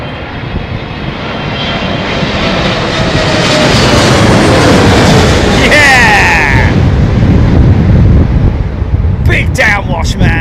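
An aircraft passes close at Heathrow, a loud roaring jet rumble building and swelling into a swirling whoosh of downwash, with brief bursts of voices near the end.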